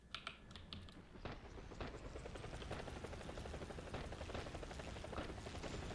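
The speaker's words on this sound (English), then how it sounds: "I think I can fit all them all in this helicopter." Helicopter rotor chop from the Battlefield video game drones steadily throughout, mixed with rapid keyboard typing clicks up close and faint distant gunfire.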